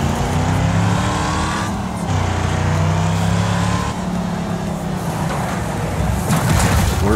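Race cars in the Wreckfest video game, engines revving and shifting loudly and continuously with rising and falling pitch as the pack accelerates, tires squealing now and then.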